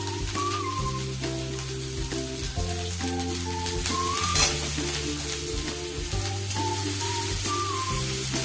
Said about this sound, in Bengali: এবার আমি এর মধ্যে দেবো একটু রসুন কুচি, পিছনে রাখা রসুন, কুচিয়ে রাখা একটু আদা,